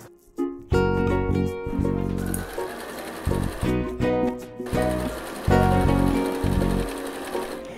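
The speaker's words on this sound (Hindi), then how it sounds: "लाइन के दोनों तरफ क्वार्टर क्वार्टर इंच पे आप सिलाई करेंगे" A sewing machine stitches quarter-inch seams along a quilt block in several quick bursts with short pauses between them, loud and close.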